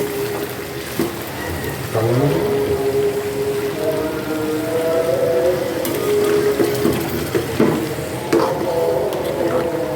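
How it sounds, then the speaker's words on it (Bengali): Broth is poured into braised meat cooking in a pot, giving a steady sizzling and bubbling hiss with occasional scraping and stirring clatter, close and fairly loud throughout. "মাংস কষানো হয়ে গেছে, এখন ঝোল দিয়ে দেব।"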